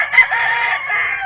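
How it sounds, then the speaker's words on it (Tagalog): A yellow-legged Hatch gamefowl rooster crossed with Claret crows once, loud and close, a single sustained cock-a-doodle-doo lasting just over a second. "Minsan lang tayo makita ng ganitong klaseng mga manok guys"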